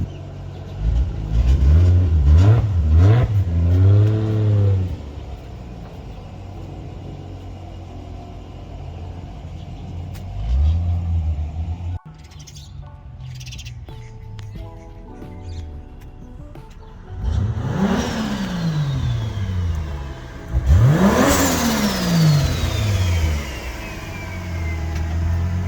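A Toyota Supra engine revving hard through several quick climbing pulls, then idling and rumbling before more loud accelerations, close and alone.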